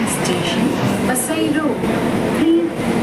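The steady rumble and rattle of a moving Mumbai local train fills the carriage, with voices murmuring under it.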